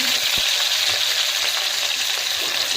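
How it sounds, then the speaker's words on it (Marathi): A bay leaf and chopped onion fry in hot oil, giving a dense, steady sizzle that fills the whole clip, with one sharp click near the start. "तेल गरम झाल्यानंतर आपण याच्यामध्ये एक तेजपत्ता टाकणार आहे आणि एक कांदा चिरून"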